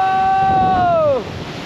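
Water roaring steadily at Sepli waterfall, a broad, constant rush beneath a long, loud vocal note that bends downward and stops just past one second, then leaves the roar alone.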